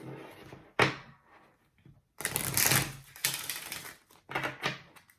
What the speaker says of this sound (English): Shuffle the second half.